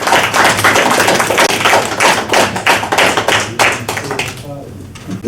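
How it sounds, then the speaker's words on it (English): A crowd claps in sustained, dense applause for several seconds before it thins out and fades. "I want you to give them a round of applause"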